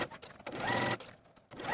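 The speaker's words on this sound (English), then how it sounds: "Sew the facings to the bottom of your sleeves all the way around with a 3/8 inch seam allowance." A sewing machine stitches sleeve facings to the bottom of dress sleeves, running in two bursts of steady whirring stitching separated by a short pause, close and fairly quiet.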